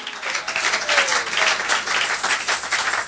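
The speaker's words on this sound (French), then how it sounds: "Acclame pour Jésus, mon ami." Sustained applause from a church seminar audience, a dense, steady wash of clapping that stays loud and even throughout with no voices over it.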